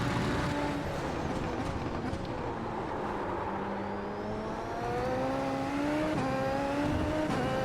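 In iRacing, a race car engine pulls out of a corner and climbs steadily in pitch while accelerating, loud and sustained with no gaps.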